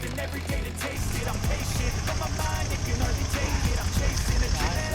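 A cheap used motorcycle engine turns over and catches while the bike rolls down a steep slope in second gear. The engine note is rough and mid-pitched, with a steady low rumble that builds and stays running.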